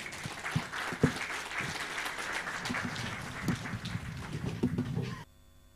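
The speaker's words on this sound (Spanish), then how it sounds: "Vamos a recibir, por favor, con fuertes aplausos al grupo Canto de Esperanza." Congregation at a Sunday church service giving the group Canto de Esperanza a round of applause, dense clapping with a few sharper claps, ending abruptly into near silence.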